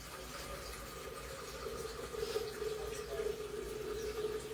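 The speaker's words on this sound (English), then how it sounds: "all I need to do is add filtered water." Filtered water is poured steadily into a pot for home-canning corn, a soft, continuous running-water rush at low volume with no talk.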